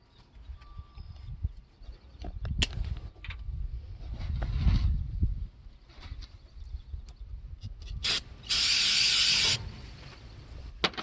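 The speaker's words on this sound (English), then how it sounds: "I'm just doing a brake clean" A sharp, steady hiss of brake cleaner aerosol spray bursts out for about a second near the end, following clattering and low rumbling handling noises.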